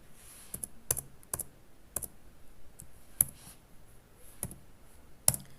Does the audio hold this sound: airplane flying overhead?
no